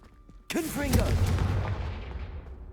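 A Confringo blasting spell in the Hogwarts Legacy video game bursts out with a sudden loud explosive crack. A rumbling, crackling tail then fades slowly over the next two seconds.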